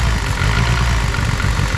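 A Mitsubishi Evo 8 engine, freshly started with lifters likely lacking oil, idles roughly with a loud, dense, steady rumble close to the mic.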